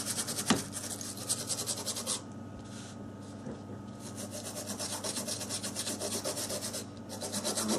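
Corrosion is scrubbed off a wet Samsung Galaxy S4 circuit board with a brush in rapid, close, rhythmic scratchy strokes, pausing briefly twice.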